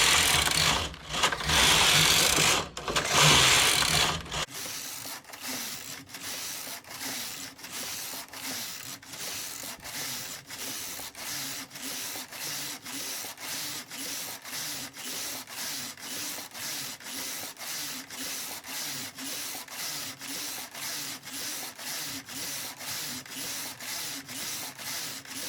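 A domestic knitting machine knits rows of a slipper, with a loud carriage swipe at the start, then a steady rhythmic train of sharp clicking passes, evenly spaced and close up.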